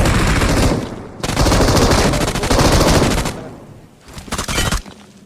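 Rapid, loud bursts of automatic gunfire in several long volleys separated by brief pauses, sounding sharp and synthetic like game weapons.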